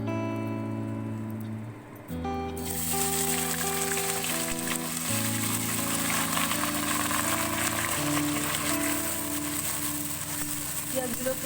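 Onions drop into hot oil already used for frying in a Bengali methi chicken dish, and a loud, steady sizzle bursts in about two seconds along with a sustained musical hum from background music.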